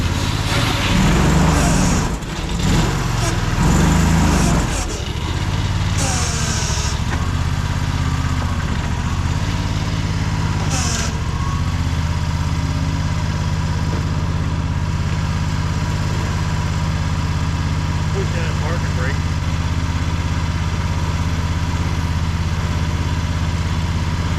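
A Fland FL45 wheel loader's cold engine idles while warming up on a roughly 30-degree morning, a steady loud low rumble that runs continuously, with a few brief mechanical clunks early on.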